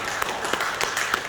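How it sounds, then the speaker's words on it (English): Brief scattered clapping from an audience at a credit union annual meeting, a handful of distinct sharp claps over about a second, fairly close. "So can I get a round of applause?"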